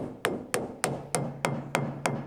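Seven evenly spaced hollow knocks, tapping on fiberglass laminated over plywood on an old freezer being converted, each a short sharp hit with a brief resonant ring, close and clear.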